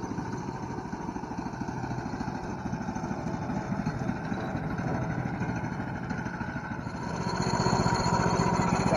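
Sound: Hudson sawmill cutting red oak log

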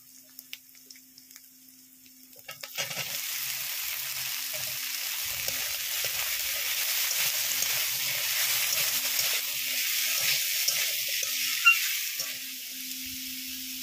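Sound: washed taro stolons added to frying pan

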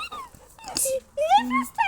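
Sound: dog whimpering

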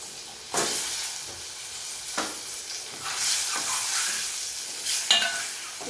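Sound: eggs frying in oil with spices

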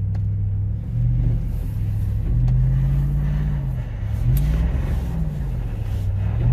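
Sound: Toyota Tundra Double Cab engine revving in snow

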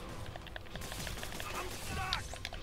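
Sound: gunfire in Spider-Man PS4 video game

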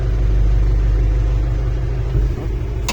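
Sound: homemade excavator engine revving

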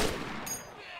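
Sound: gunfire from player's gun in DayZ Mod video game

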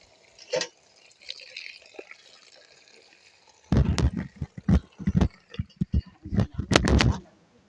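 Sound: washing kangkung greens in water

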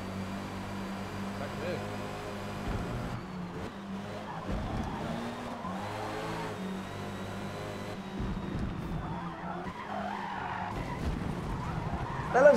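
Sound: race car skidding off track in Forza Motorsport video game

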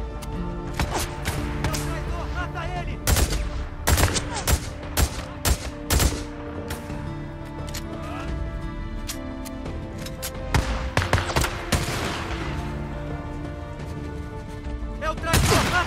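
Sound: gunfire in the video game Days Gone

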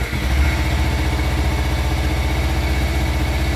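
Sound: motorcycle engine running before new muffler

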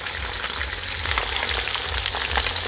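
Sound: cauliflower added to vegetables frying in a pan

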